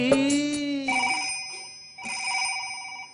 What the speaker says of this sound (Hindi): घंटी बजी जसोदा जी ने उठाया